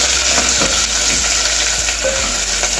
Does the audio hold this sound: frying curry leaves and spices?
yes